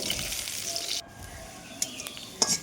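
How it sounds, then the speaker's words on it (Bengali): Crushed garlic and two dried red chillies fry in hot oil in a kadai, giving a bright, steady sizzling hiss that suddenly drops quieter, then crackles and spits in small bursts. "রসুন আর শুকনো লঙ্কাটা ভালোভাবে ভেজে নেব।"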